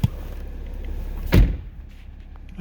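A single solid thud of a 2014 BMW 535d car door closing, short and close, over a low background rumble, with no voices.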